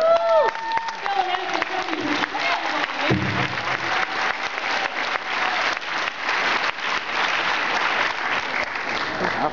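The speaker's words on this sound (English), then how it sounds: "So give him a round of applause" Audience applause at a PAX East 2013 panel: dense, steady clapping fills the room after a cheer at the start, with voices mixed underneath.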